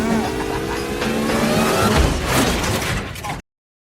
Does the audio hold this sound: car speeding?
yes